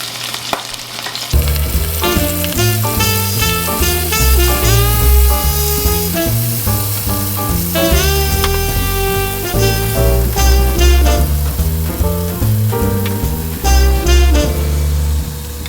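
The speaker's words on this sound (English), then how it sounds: "now I'm just going to fry each pieces for about 3 minutes, 2 to 3 minutes" Lobster pieces fry in hot oil in a wok, giving a steady, continuous sizzle that sits under louder tonal background music for the whole stretch.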